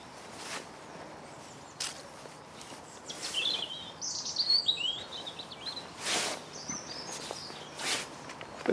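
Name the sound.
birds singing in a garden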